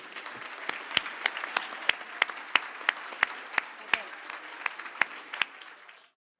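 Luncheon audience at a fundraising event applauding steadily, a dense roomful of clapping with sharp individual claps standing out, moderately loud, ending abruptly.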